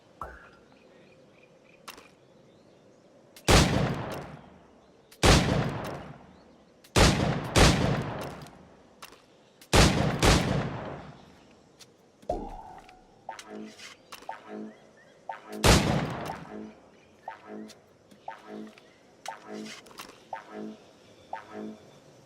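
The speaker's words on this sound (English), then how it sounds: "Try to strike every target before this hourglass empties." Target-shooting challenge in Assassin's Creed IV Black Flag: six or seven loud, sharp gunshots spaced a few seconds apart, each ringing out and fading, with quieter clinks and hits between them and no talk.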